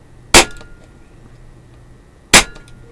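Two sharp, loud shots from an SMK PP700W PCP air gun firing 15.9-grain pellets through a chronograph, spaced about two seconds apart over a quiet background with no talk.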